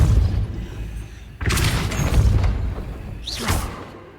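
The Depulso spell in Hogwarts Legacy fires as two heavy whooshing booms with rumbling low thuds, the second landing about two seconds after the first, loud and close.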